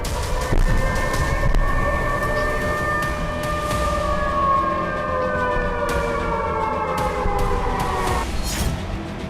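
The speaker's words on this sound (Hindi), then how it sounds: "बेलगोरोद में पूरी रात एयर अलर्ट का सायरन गूंजता रहा है।" A wailing air raid alert siren drones steadily in the distance over Belgorod, Russia, its tone slowly shifting, over a rumbling outdoor background.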